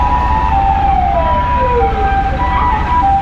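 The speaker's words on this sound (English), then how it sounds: "Comes the ambulance." An ambulance siren wails loudly on a street, its rising and falling tone sliding over heavy low traffic rumble for a few seconds.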